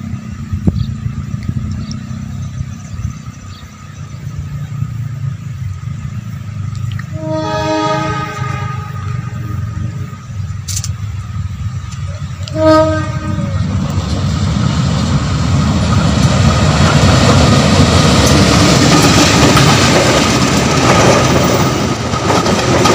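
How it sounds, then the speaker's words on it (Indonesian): A train horn blasts twice at a distance, then the Pasundan passenger train, hauled by a CC203 diesel locomotive, rolls past with its carriages in a growing roar and rumble that fills the scene. "kereta api Pasundan segera melintas dari arah barat"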